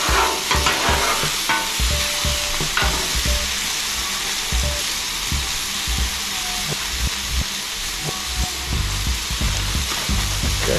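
Eggs sizzle and fry steadily on a seasoned griddle, a loud continuous hiss broken by occasional scrapes and taps of a spatula moving them around, with no talking.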